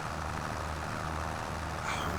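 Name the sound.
tractor engine in a video game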